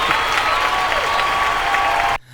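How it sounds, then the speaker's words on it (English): Applause from a podcast audience, a steady wash of clapping with light crowd noise that cuts off abruptly near the end. "Hold your applause."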